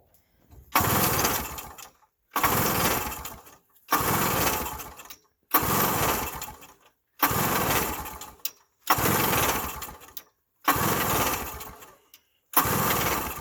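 A 1977 Honda Odyssey FL250 engine is revved in seven loud, roughly two-second bursts, each cut off by a brief near-silent gap in a steady repeating rhythm.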